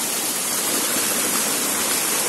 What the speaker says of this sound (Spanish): me encuentro en el Arroyo del Tigre. Un arroyo, la verdad, muy bonito.